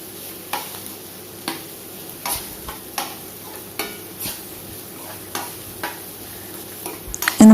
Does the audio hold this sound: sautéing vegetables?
yes